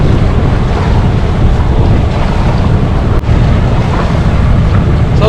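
A sailboat under way on its first solo overnight cruise, mainsail down and autohelm steering, with steady loud wind buffeting the microphone and waves rushing continuously along the hull, broken by one brief knock near the end.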